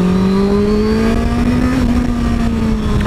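A Honda CBR 650F motorcycle rides through a curve, its engine holding a loud steady drone with pitch rising slightly then easing, close and continuous with no talk.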